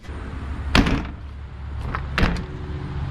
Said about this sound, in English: and the back door.